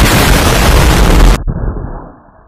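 A homemade pop pop bomb firecracker goes off with one loud, close blast whose noise cuts away sharply and fades into a brief tail.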